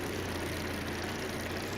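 In BeamNG Drive, a 1971 Chevrolet monster truck with a rear-mounted 3,000-horsepower Allison aircraft engine runs with a dense, steady, loud engine roar and deep low hum, unbroken throughout.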